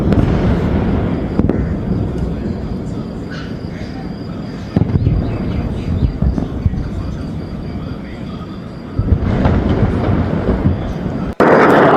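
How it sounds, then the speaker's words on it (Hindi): Several loud blasts from Iranian missile strikes on Tel Aviv boom at irregular intervals against a rumbling background, with voices heard between them. "तेल अवीव में कई बार तेज धमाकों की आवाज जो है वो सुनाई दी"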